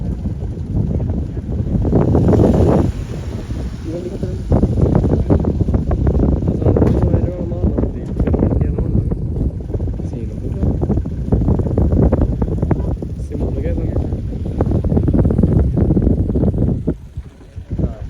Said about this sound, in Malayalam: പക്ഷെ നല്ലൊരു കാറ്റും താഴൊക്കെ ഉണ്ട്.